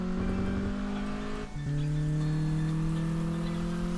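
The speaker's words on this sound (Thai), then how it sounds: "เสียงรถเนี่ยไม่ค่อยลั่นเลยว่ะน่าจะเป็นเพราะว่าเรายังไม่ได้อัปเกรดอะไร" Honda Civic EK9 engine in a racing video game, a steady loud droning hum at constant revs with a brief dip as it shifts gear, then resuming, with faint tire noise beneath and no talk.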